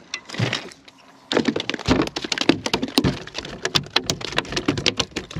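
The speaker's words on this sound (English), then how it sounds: "you hear that fish flapping on the deck?" Irregular wet slaps and thumps of a speckled trout flapping against a boat deck in Louisiana, a rapid flurry of sharp knocks close by.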